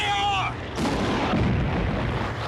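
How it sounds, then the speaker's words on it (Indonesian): Anti-tank gun fire in a Stalingrad war film battle scene: a high whining tone gives way to a heavy, booming blast followed by a rumbling, noisy roar of combat that lingers. "Pasukan Jerman mengawali pertempuran dengan tembakan anti-tank."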